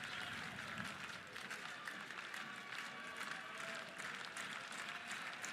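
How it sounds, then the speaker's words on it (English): Baseball crowd at Hawkins Field cheering and clapping to encourage a freshman left-handed pitcher, a steady wash of distant applause and crowd noise with no talking over it. "Hawkins Field crowd trying to encourage the freshman lefty."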